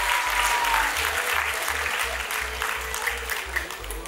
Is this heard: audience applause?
yes